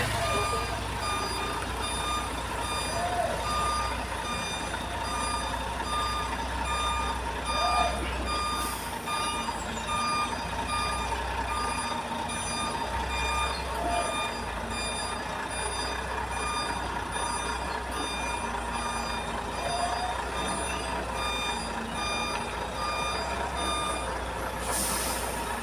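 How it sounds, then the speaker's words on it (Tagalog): A delivery truck reverses into a warehouse dock, its reversing beeper pulsing steadily over a loud, constant engine rumble, with a brief hiss that sounds like an air brake. "Grabe yung hirap ng driver na magsalang"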